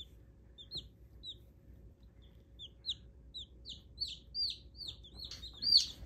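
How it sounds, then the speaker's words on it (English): A newly hatched chick on a snowy farm gives a run of soft, high peeping chirps that come faster and louder toward the end, over a low background rumble. "Fluffy sweet chicken."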